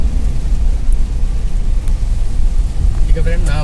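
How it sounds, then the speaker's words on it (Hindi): Rain falling on a Toyota Fortuner pickup while driving, a steady heavy rumble of road and engine noise mixed with rain hiss, continuous and loud from inside the vehicle. "ये बारिश भी चालू हो गया"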